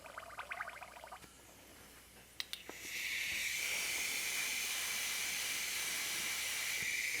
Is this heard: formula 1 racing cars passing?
no